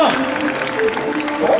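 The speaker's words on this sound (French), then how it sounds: "Allez, on applaudit bien fort" Spectators at the Chevaliers Vs Barbares show in Angers applauding in a steady, dense wash of clapping, with a voice talking over the crowd noise throughout.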